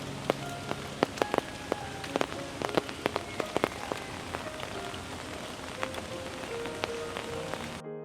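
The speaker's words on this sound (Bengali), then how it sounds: "এমন ঝমঝমিয়ে বৃষ্টি না হলে হয়তো এই জায়গাতে আরও ঘণ্টাখানেক অনায়াসে কাটিয়ে দেওয়া যেত।" Heavy rain pours steadily in a green, quiet spot at Kuntighat, a dense hiss with scattered sharp drip and splatter impacts close by.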